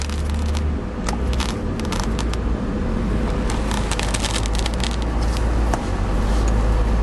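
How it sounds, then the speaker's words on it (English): Inside a car stuck on the 91 freeway, a loud, steady low rumble of road and engine noise fills the cabin, with scattered crackles and rattles over it and no talking. "I'm stuck in this god-awful traffic."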